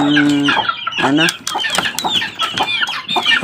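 A group of well-grown white chicks cheeps and chirps noisily up close, with overlapping peeping calls and a few clucks packed into a few busy seconds.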